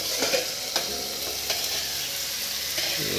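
Fish sizzles steadily in a covered pan over a medium flame, a dense continuous crackle with a few soft clinks of a lid or utensil, close and alone.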